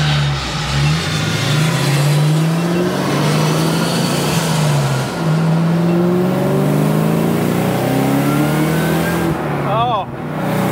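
A supercharged 2003 Ford Cobra engine revs hard and accelerates, a loud, continuous roar with rising pitch sweeps and gear changes, ending in a sharp blip; excited voices are heard over it.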